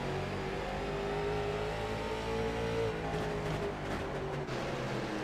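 Short track race cars on the South Boston oval roar past in a sustained, loud engine drone that rises and shifts in pitch as they come out of the turn, with a few sharper bursts toward the end.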